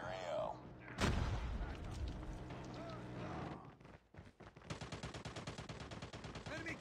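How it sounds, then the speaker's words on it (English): Automatic gunfire from a hostile sentry gun in the Call of Duty video game, heard as loud sustained bursts with a booming blast and rapid repeated shots near the end, amid game sound effects and voice radio chatter. "Hostile sentry gun in your AO."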